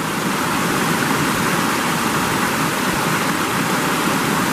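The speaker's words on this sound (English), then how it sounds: "Water's all running good." Stream water running along a hiking trail in Georgia on a rain-soaked day, a loud continuous broadband rush close to the listener with no voices over it.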